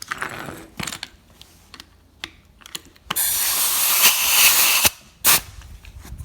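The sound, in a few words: impact wrench torquing Dodge rear wheel bearing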